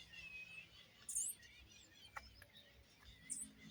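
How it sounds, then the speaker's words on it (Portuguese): Several different wild birds sing and chirp outdoors among garden plants, with thin high whistles, a sharp call in the middle and a few bright trills, fairly distant over a quiet background with faint insect buzz. "Aqui tem tudo quanto é tipo de passarinho, gente."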